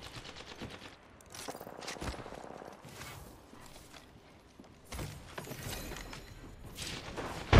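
SMG fire loaded with heavy ammo in Apex Legends: quiet, rapid rattling bursts in separate volleys with short pauses between them, mixed with footsteps and mechanical game noises at a distance.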